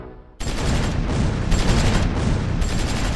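German artillery pounds a platoon in the Close Combat 4 Battle of the Bulge at Assenois in 1944, a loud, dense barrage of rapid thudding blasts that starts abruptly after a brief quiet moment and continues without pause.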